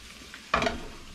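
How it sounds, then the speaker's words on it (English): A short burst of sizzling and a utensil scrape as pheasant fries in a skillet, rising suddenly then fading to a low hiss. "you're just gonna keep frying your pheasant until it gets nice and crispy"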